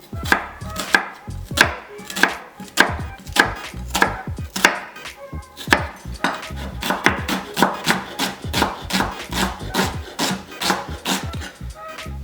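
A knife chops shallots on a cutting board in a steady run of close, crisp knocks, about two per second, sometimes bunching into quick bursts, with no voices.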